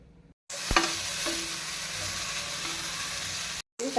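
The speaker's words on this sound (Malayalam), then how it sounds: "നമുക്ക് ഇഞ്ചി അങ്ങോട്ടിട്ട് വറുക്കാം." Ginger frying in hot oil while being stirred, a steady close sizzle with a sharp scrape of the spoon early on and no talk.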